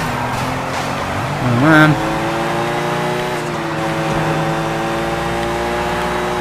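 Car engine revving and driving in the open-world game Sleeping Dogs, a steady loud motor drone with a brief rising rev and tire squeal; someone speaks briefly over it.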